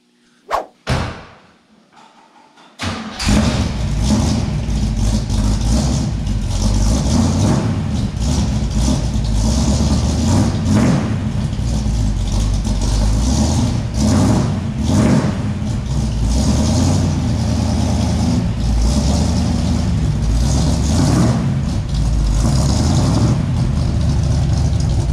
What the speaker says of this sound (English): I'll kick my car outside, move this car around